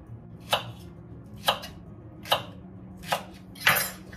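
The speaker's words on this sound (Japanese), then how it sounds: "おネギさんもザクザクと" Chopping old green onion (negi) with a knife on a cutting board for a hearty miso soup, five crisp evenly spaced knife strikes about a second apart, close and clear with no talking.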